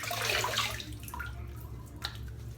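Water splashes and trickles close by as a man wets his face with his hands before shaving, a burst of splashing at the start, then quieter drips and light splashes.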